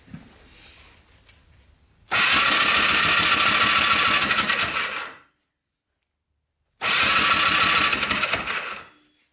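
A worn-out ATV engine cranks without firing, with no spark and leaking coolant; two loud bursts of rapid whirring starter churn lasting about three seconds each, separated by a silent pause, close up with no talking.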